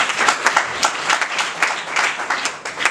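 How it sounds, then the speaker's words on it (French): An audience at a JCI Conakry Trésor ceremony applauds the local president, with fairly close, uneven clapping whose individual claps pulse through a steady three-second round. "je vous demande de l'applaudir très fort"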